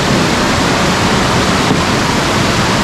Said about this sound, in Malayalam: ഇതുപോലുള്ള വെള്ളം കുത്തി ഒലിച്ച് വരുന്നതാണ് നല്ല ഭംഗിയാണ്